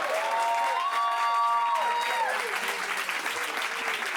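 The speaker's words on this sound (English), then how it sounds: "give a nice round of applause for our three couples here" Stage audience applauding steadily for three couples called up at a magic show, dense clapping throughout with whistles and cheering voices mixed in.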